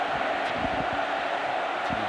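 A large football stadium crowd at a pre-season Manchester United match against a Malaysia XI roars in a steady, dense wash of cheering and chanting as Wayne Rooney warms up, with no clear single voices standing out.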